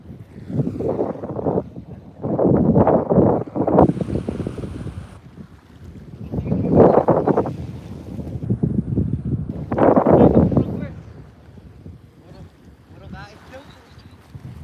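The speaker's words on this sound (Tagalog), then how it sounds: "Di ba masyadong maingay ang hangin?" Strong seaside wind buffets the microphone in rough, roaring gusts that rise and fall, with a voice faintly heard amid the blasts.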